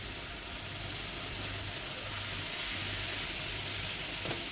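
Momo filling of vegetables with black pepper powder, soy sauce and coriander stir-fried in a pan over a high gas flame, giving a steady, continuous sizzle and hiss with no voices.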